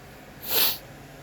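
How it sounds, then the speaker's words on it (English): One sharp human sneeze sounds close to the microphone, a short hissing burst peaking about halfway through against a quiet background. "Sorry, I was about to sneeze there."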